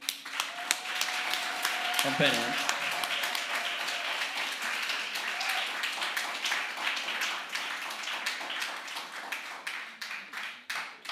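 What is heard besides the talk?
audience applause for the presenters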